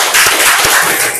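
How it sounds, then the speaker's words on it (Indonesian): A classroom of pupils applauds together in a short, dense burst of clapping, with a couple of sharper claps standing out near the start. "tepuk tangan untuk kita semuanya"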